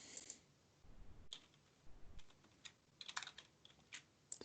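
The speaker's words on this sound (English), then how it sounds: "and just try typing in Bob" Light clicking of a computer keyboard as a name is typed into a form, soft scattered keystrokes in an irregular rhythm, close but quiet, with no talking.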